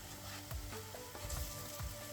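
Banana and apple fritters with sultanas frying in oil in a frying pan give a faint, steady sizzle broken by a few soft clunks, with no talking.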